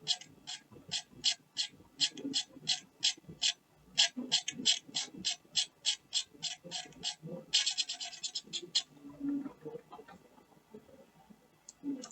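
A Panasonic CM cut tape feeder's tape is pushed forward with a tape push tool to the second hash mark, giving a rapid series of close, crisp mechanical ratchet clicks that pause briefly, then end in a quick burst.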